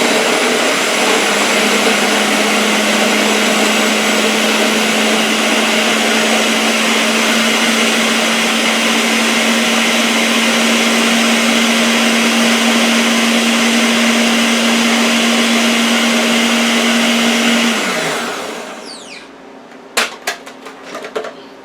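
A kitchen mixer runs loudly and steadily with a constant whirring motor hum for about eighteen seconds, then winds down, followed by a few clicks and clatters.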